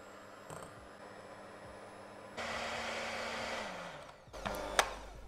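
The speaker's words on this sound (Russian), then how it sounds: "Белки взбиваю сейчас пока на средних оборотах." Electric hand mixer whipping egg whites at medium speed for a sponge cake, a steady whirring drone that grows louder and rougher midway, with a brief clatter near the end.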